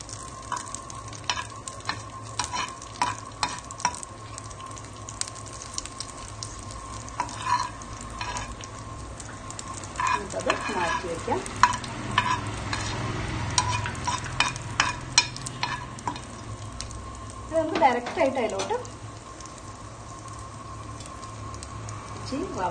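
Semolina (sooji) stirred and dry-roasted in a pan for halwa, giving a soft scraping and faint sizzle with scattered spoon clicks and rustles, steady at low level with a busier stretch midway.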